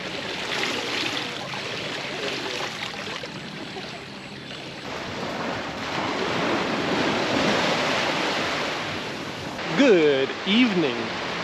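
Waves wash steadily onto a Langkawi beach at sunset, a continuous rushing surf with some wind noise and voices rising briefly near the end.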